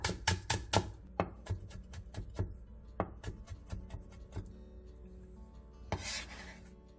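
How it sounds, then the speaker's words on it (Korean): A knife finely chops green onion and carrot on a cutting board, giving a run of sharp, close taps, fast at first, then slower and spaced, with a brief scraping rub near the end. "대파 조금과 당근 조금을 잘게 다져주세요"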